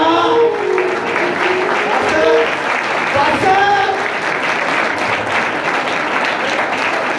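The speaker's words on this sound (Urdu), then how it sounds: "بجائے تالیاں" A church congregation at a Christmas service applauds in a steady, fairly loud wash of clapping, with a voice speaking over it.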